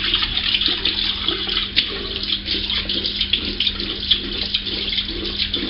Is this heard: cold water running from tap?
yes